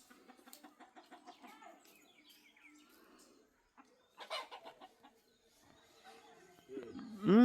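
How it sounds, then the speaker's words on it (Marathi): On a Konkan village farm in the evening, a rooster chases a hen and the chickens set up a racket: repeated nearby clucks and squawks come in bursts, ending in a loud close squawk, with a person's voice heard alongside. "कोंबड्याचा दंगा चालू आहे फुल. कोंबडं मागे लागलो कोंबडीच्या."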